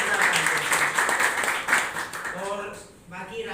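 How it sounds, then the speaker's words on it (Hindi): Audience at a company business event applauding for the company's godfather, a dense burst of clapping that fades out near the end as a voice talks over it. "तालियां"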